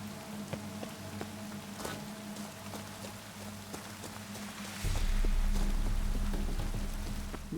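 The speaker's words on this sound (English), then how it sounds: "I can hear the rain outside." Rain falls outside a cave in The Witcher 3 as a steady patter over a low ambient hum, with scattered drips and faint footsteps, and a deeper rumble rises midway.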